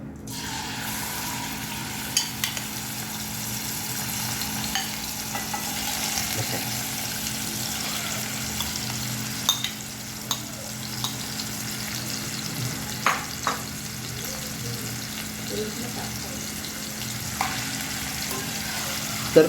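Prawns fry in hot oil with asafoetida, a steady close sizzle and crackle with occasional small pops and light stirring scrapes throughout, no voices.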